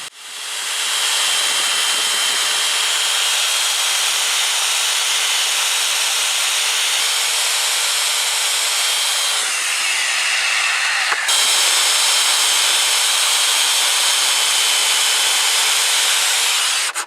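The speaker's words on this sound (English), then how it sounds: "it was much easier to use my floorboard saw" Floorboard saw cutting through a wooden kitchen table top, a loud, steady high-pitched whine of the blade in the wood running almost continuously, with one brief dip partway through.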